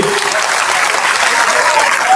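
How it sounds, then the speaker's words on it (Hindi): A crowd at a Samajwadi Party birth-anniversary event bursts into loud, sustained applause welcoming Akhilesh Yadav, dense clapping continuing steadily throughout. "कृपया जोरदार तालियों से उनका स्वागत कीजिए"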